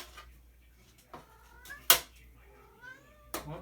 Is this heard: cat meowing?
yes